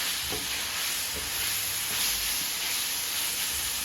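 Dirty rice meat and seasoning browning in a pan, giving a steady, close sizzle with soft frying hiss throughout and no voices.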